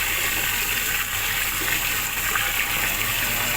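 Soaked soybeans being rinsed in water for homemade soy milk, a steady continuous rush and slosh of running water that stays fairly loud and even throughout, with no talking.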